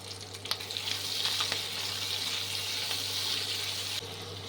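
Grated ginger and chopped tomato frying in a pan for a vegetarian potato and cauliflower curry, a steady close sizzle with occasional stirring scrapes.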